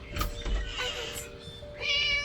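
Cat meowing inside the Scary Teacher video game, a short mewing cry heard up close over faint background game sounds.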